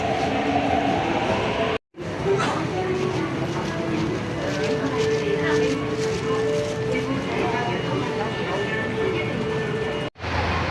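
Hong Kong metro train running steadily with a loud, continuous rumble and rail noise, briefly cut twice by gaps, with people talking faintly in the background.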